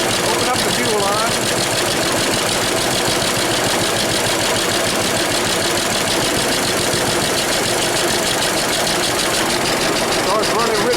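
A farm engine runs loudly and steadily after its fuel line is reopened, a dense continuous idle close to the listener, with voices under it.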